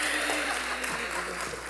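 Church audience applause as the speaker's wife is welcomed to the stage, a dense continuous patter of clapping from a crowd, fairly soft and steady with a voice briefly over it.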